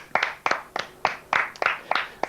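A handful of people clap in a French TV studio show: about eight sharp, separate handclaps in an even, unhurried rhythm, close and clear, with no talking over them.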